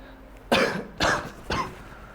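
Three short, evenly spaced coughs from a person, fairly close and moderately loud, over a quiet room background.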